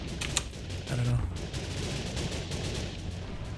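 Missiles launch in the video game HyperVelocity, a rapid volley of sharp bursts followed by a rumbling, crackling rush that fades into a steady low roar.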